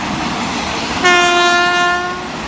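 A diesel train's horn sounds steadily for about a second over rumbling rail noise, loud and close, as locomotive 4018 rounds a curve near Don Tum temple, Ban Pong, Thailand, then fades as the train keeps moving.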